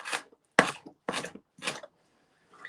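Green onions being chopped with a knife on a cutting board: four distinct crisp chops spaced about half a second apart, close and fairly loud, with no talking.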